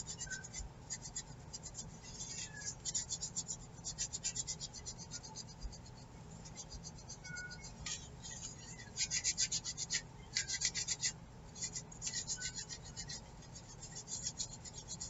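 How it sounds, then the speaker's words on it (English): Dry scratchy rubbing on a salt dough craft tag to remove embellishment, steady repeated scraping strokes in bursts, close and fairly quiet with no talking. "this one I don't like, so I'm going to see if I can't rub some of it off"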